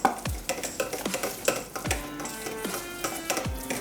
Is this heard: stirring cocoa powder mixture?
yes